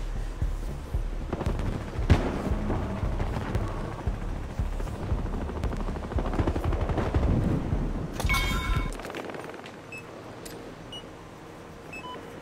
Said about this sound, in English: we got one of them just shooting as much bullets as I can